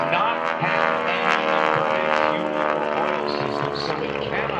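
Radial engine of a Stearman biplane, a former primary trainer, droning steadily at an airshow during a four-point roll, loud and continuous with a harmonic buzz throughout.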